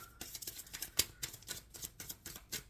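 A quick series of crisp, papery riffles and snaps, repeating in short bursts, as tarot cards are shuffled close by in a quiet room.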